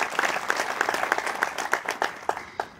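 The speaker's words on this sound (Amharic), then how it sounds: "አጨብጭቡላቸው ለነሱ" A small audience claps in a steady rhythm of distinct hand claps, close and moderately loud, fading slightly at the end.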